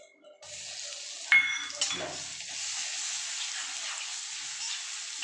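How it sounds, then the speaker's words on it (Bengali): A small amount of grated ginger hits hot oil with a sudden hiss that settles into an even sizzle, with a couple of metallic clanks of utensil against pan, while cooking a Bengali vegetarian curry. "তেলের মধ্যে আমি আদা গ্রেট করে দিয়েছি একদম অল্প আদা দিলাম"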